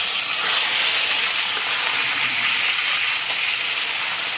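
Tilapia fries in hot oil in a steady, loud, close hiss that holds evenly throughout with no talk over it.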